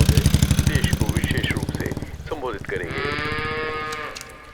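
A cow in a Malayalam comedy film scene moos up close with a long, low, droning bellow, then a brief voice cuts in before a second sustained, steady lowing call rings out.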